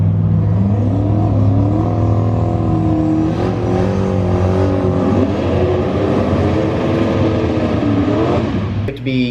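A car with a 118mm turbo doing a burnout, engine roaring loud and steady while the turbo whines in rising and falling tones and the wastegates flutter, filling the whole stretch.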